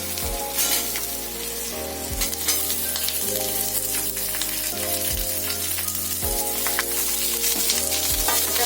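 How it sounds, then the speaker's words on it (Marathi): Sliced onions dropped into hot oil with lightly roasted garlic for a dried bombil curry sizzle steadily, with periodic stirring scrapes and soft background music running underneath. "आता त्यामध्ये आपण 2 उभे चिरलेले कांदे घालूया।"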